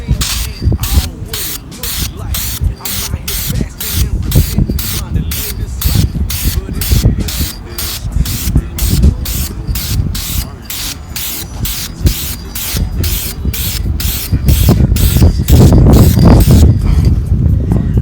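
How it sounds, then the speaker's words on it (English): Rapid repeated hissing bursts of an aerosol can spraying clear coat onto a restored headlight, pulsing steadily side to side, growing louder and denser near the end. "Now we're gonna spray the clear coat, as you can hear."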